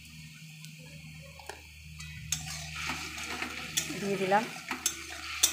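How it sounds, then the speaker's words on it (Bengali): Food is stirred in a cooking pot with turmeric and salt, the spoon scraping and tapping in an irregular rhythm over a soft sizzle, while someone speaks briefly. "এবার এটা নাড়তে থাকবো।"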